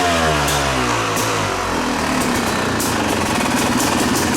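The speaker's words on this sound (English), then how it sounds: "give it just a little bit of pressure, and then you're going to rev it up." A Yamaha YZ250 dirt bike fitted with a Rekluse auto clutch revs hard up close, its loud, steady engine note climbing in pitch and holding high with no talk over it.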